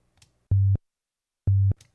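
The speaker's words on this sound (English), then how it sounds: "Just a sine wave." Two short, deep sine wave kick drum hits synthesized in Native Instruments FM8, each a low sustained boom lasting a quarter second, separated by silence.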